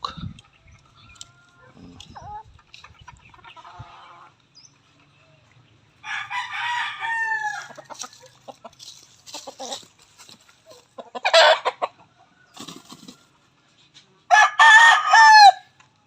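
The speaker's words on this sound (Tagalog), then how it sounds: "Mga manok." Roosters crow loudly several times, with softer clucking and chicken calls in between and no talking, in a rural setting.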